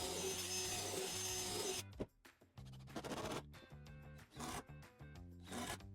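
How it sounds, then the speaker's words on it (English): Wood screws are driven into a kids' patio chair, producing a steady, close whirring and grinding that stops and starts in several bursts of a second or so each, with no talking. "we'll go ahead and just do 3 wood screws again"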